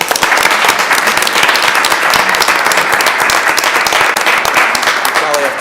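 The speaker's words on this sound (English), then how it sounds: "Let's give them a round of applause." A school board of education meeting audience applauding: dense, continuous clapping from a sizeable crowd, loud and even throughout without a break.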